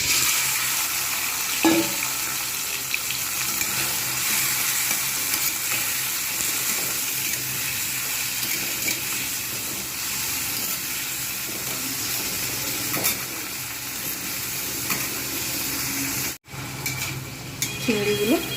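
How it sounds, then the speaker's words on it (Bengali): Prawns fry in hot mustard oil in a kadai, giving a steady, dense sizzle with occasional crackles and a brief clatter near the end, close and continuous, with no talking. "কড়া বসিয়ে দিয়েছি, আগে চিংড়িটাকে ভাজবো"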